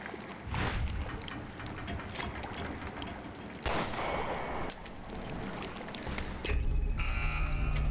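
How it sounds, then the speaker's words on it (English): Gunshots fired at a key hanging out of reach in the video game Resident Evil Revelations 2, in the Penal Colony, as a few sharp reports over dense, noisy game ambience and mechanical clatter. "Let me try shooting it down."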